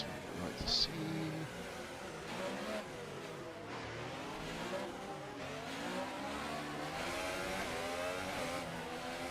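Crisp, high-revving Formula 1 engine note of a Williams car in F1 2018, racing at night around Singapore, a steady sustained whine that rises and falls through gear changes at moderate level, under faint talk.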